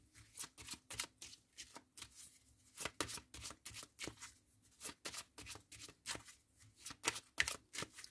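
Tarot cards shuffled by hand before a card reading, a quick series of soft papery riffles and slaps repeating steadily throughout, close and fairly quiet with no talking.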